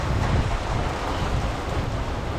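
Heavy rain pours down in the Philippines as a typhoon arrives, a dense, unbroken roar of noise mixed with gusty wind buffeting the microphone, loud and close.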